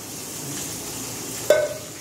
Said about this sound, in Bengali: এই যে মটন কষা রান্না চলছে এখন